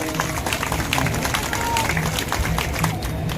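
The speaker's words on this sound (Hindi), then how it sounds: "आप लोग ताली बजा दो एक बार" Audience clapping at a religious gathering honouring a Vishwakarma temple committee, a steady dense wash of hands filling the space for several seconds, close and fairly loud.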